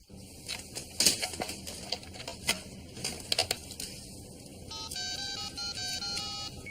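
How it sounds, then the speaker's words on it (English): Telephone dialing tones heard toward the end as a short run of steady beeping pitches, preceded by scattered clicks and taps, fairly faint with no talking. "Dialing up."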